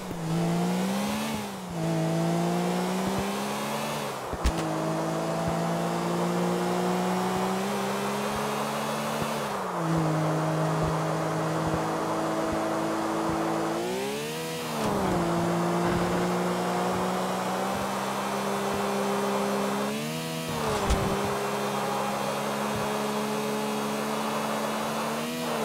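An Infernus sports car in GTA: The Ballad of Gay Tony revs hard through a series of gear shifts, its engine note climbing then dropping at each change, loud and steady with no voices.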